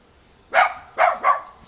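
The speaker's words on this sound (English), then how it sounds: "he's off down the street barking because they've heard the goats" A dog barks three times in quick succession at goats, sharp and fairly close, against an otherwise quiet background.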